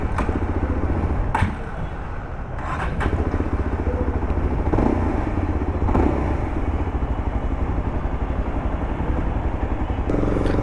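A Yezdi Adventure motorcycle engine starts and runs with a steady, loud, close throbbing idle and brief mechanical clacks, without any talking over it.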